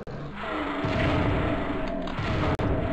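Loud, sustained blasting from a shotgun in Doom 64, a dense roaring burst that fills most of the moment, broken by a sharp cut just before the end.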